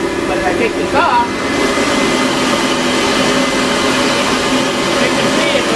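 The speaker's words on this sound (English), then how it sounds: "I'm going to shut it off so you can see the difference in the noise level with the shop vac" A shop vacuum roars loudly with its lid off, a steady, dense whine and rush of air that holds constant for several seconds.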